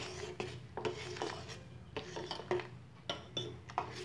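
A spoon scraping and stirring jaggery rice kheer in a metal pot gives repeated rasping strokes with faint clinks, close and steady, with no talking.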